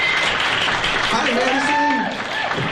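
At a local talent show finale, a loud audience cheers and applauds steadily, with a voice speaking over the noise.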